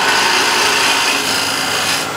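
A shear scraper with a pointed tip rasps steadily against wood spinning on a lathe, a close, continuous dry scraping that stays even throughout with no talk.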